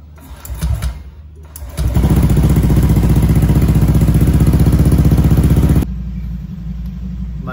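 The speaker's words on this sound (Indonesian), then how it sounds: "sekarang ini saya lagi memanaskan motornya dulu biar oli yang tadi saya ganti naik ke atas" A Honda Vario 150 motorcycle engine idles while warming up after an oil change. It starts after a couple of seconds of light clatter, holds a loud, steady, close idle, then drops to a quieter running tone near the end.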